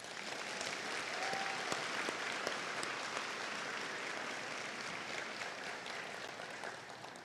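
Sustained audience applause at a nursing pinning ceremony, honoring the nursing graduates; dense, steady clapping from a large crowd that holds at full strength for about seven seconds before easing slightly.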